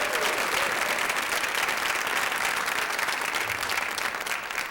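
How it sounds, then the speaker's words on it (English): An audience gives loud, sustained applause for nine women artists at an arts celebration featuring dance, poetry and music, the dense clapping holding steady throughout before easing slightly at the end. "let us give a loud applause for all 9 of the artists"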